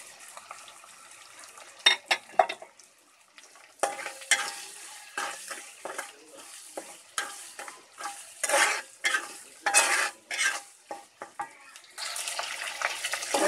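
Jengkol sambal sizzles in a pan while seasoning, salt and a little sugar are stirred in, with a spatula scraping and clattering in uneven strokes over a steady frying hiss.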